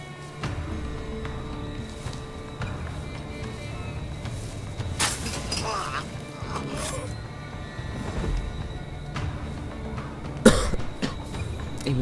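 A person coughs close to a microphone during a gaming session, with a couple of sharp bursts standing out over a steady background of game sound.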